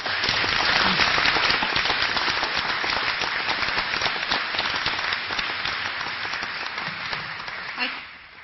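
Sustained applause fills a university board of regents meeting room, a dense, even clatter of many hands that holds steady for several seconds before tapering off at the end.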